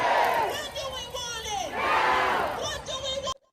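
A large outdoor protest crowd cheers and shouts in loud, surging waves, with voices rising and falling together before cutting off abruptly at the end.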